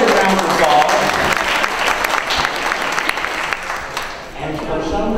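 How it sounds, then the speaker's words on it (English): Crowd applauding at the 22nd Annual Barrow County Republican Party BBQ in Winder, Georgia, a dense, loud, steady clapping that holds for several seconds with a brief dip near the end. "I want to give her a big round of applause"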